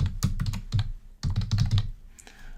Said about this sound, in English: I need to type in my name